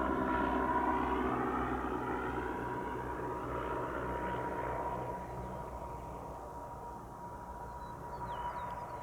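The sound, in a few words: aircraft at Spirit of St. Louis Airport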